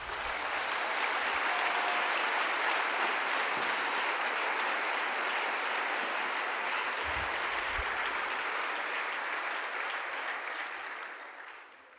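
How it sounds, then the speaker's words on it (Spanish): Dense, sustained applause from a church congregation praising the Lord, a steady wash of many hands clapping at moderate distance that holds evenly for several seconds before tapering off. "Démosle un aplauso al Señor"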